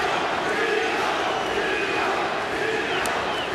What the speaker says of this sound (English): The crowd here in San Jose has made their choice.